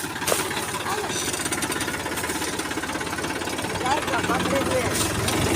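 A tractor's heavy diesel engine chugs and rattles steadily nearby at a village cow shelter, loud and continuous throughout, with faint voices in the background.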